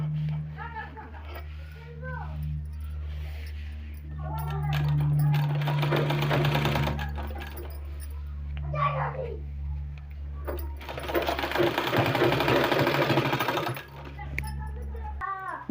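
A sewing machine stitching a sleeve design whirs in two sustained bursts, one in the middle and a longer one later, as someone talks before and between them.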